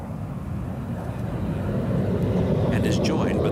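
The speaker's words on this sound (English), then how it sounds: "The test aircraft takes off" A test aircraft takes off, a loud, broad, steady engine roar that swells gradually over the few seconds, with no other sound standing out.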